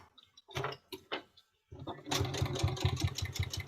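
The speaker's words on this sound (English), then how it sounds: "So we'll go ahead and start sewing that side on." A sewing machine stitches pinned fabric, its motor whirring in a steady rapid rhythm for the last two seconds after a few sharp clicks and handling knocks.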